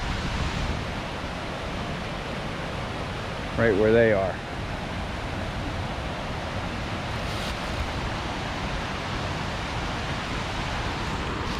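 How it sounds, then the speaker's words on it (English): The waterfall at Cascade Park in New Castle, Pennsylvania, fills the scene with a constant broadband rushing roar. A person speaks briefly over the steady water noise. "There's the waterfall right there."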